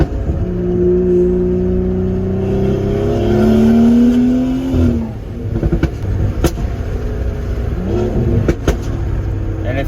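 A BMW with its exhaust cutout valve open revs hard and loud, rising engine tones swelling then dropping into choppy crackles and burbles, close up with no one talking.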